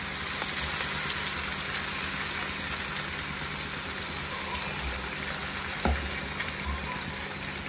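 Marinated chicken tikka pieces fry in hot oil in a pan, making a constant, bubbling sizzle, close and even throughout, with a single faint knock partway through and no speech.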